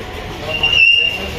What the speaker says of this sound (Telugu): హజరత్ నిజాముద్దీన్ ట్రైన్.